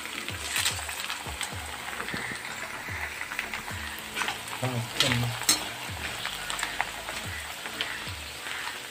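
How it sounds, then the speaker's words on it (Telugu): Corn flakes frying in hot oil for a snack mixture, a steady crackling sizzle with bursts of bubbling and occasional stirring scrapes, close and continuous for several seconds with no talking. "నూనె బాగా కాగితే కాన్ఫిక్స్ బాగా పొంగుతాయి."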